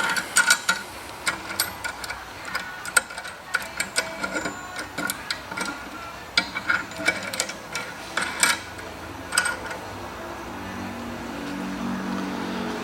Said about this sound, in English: Undo our clamp.